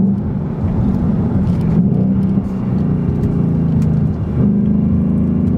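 A 2019 Ford Mustang Bullitt V8 drones steadily from inside the cabin while cornering, loud and continuous with small shifts in pitch as the throttle changes.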